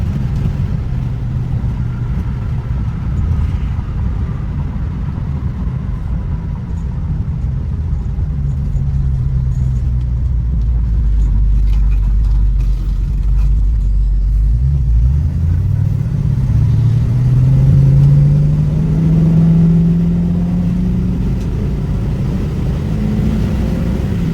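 A 1968 Ford Mustang Coupe engine pulling hard while driving, a loud low drone inside the car that climbs steadily in pitch as it accelerates, with road rumble underneath.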